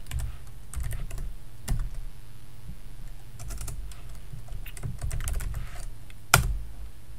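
Commands going into a computer keyboard, with irregular clicking keystrokes in short clusters and one louder key strike near the end, close and clear with no talking.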